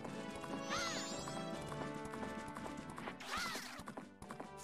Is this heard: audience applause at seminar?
no